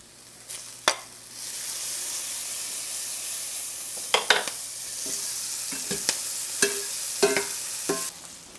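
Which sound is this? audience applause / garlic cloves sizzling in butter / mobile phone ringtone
garlic cloves sizzling in butter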